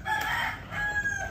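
Chickens on a farm in a green outdoor workshop setting, a rooster crowing with clucking fowl in steady, fairly loud calls over a continuous outdoor background.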